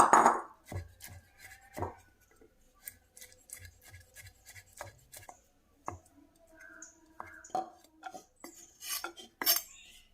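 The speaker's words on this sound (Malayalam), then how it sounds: "മീറ്റ് നമുക്ക് നന്നായിട്ടൊന്ന് ചോപ്പ് ചെയ്തെടുക്കാം കേട്ടോ." Minced chicken meat being chopped for a crispy chicken leg stuffing, with irregular sharp knife taps and metallic clicks against a board, close and fairly quiet with short pauses between strokes.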